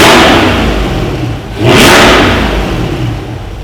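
A mid-engine Corvette in sport mode revs up loudly and close by, the engine note rising, dropping briefly, then surging again into a strong sustained rev.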